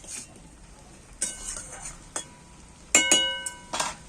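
Radish pieces and sprinkled sugar are stirred in a pan on a quiet stovetop, with sharp intermittent clinks and scrapes of a spoon against the metal, some in quick pairs, over a faint background sizzle.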